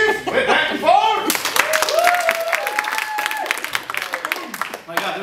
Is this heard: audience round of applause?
yes